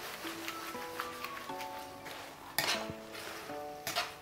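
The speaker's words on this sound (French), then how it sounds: "les pâtes en fait sont en train de cuire dans une petite réduction du jus" Spaghetti cooks in a pan of reduced shrimp broth, giving a faint, steady sizzle with a few light utensil clinks and stirring scrapes under quiet background music.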